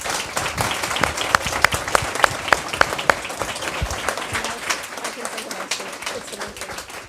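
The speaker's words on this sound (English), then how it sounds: "a big round of applause to Matt" Hackathon audience giving a round of applause for Matt at an award ceremony, a full, loud burst of many hands clapping, a few sharper individual claps near the front, tapering slightly toward the end with faint voices mixed in.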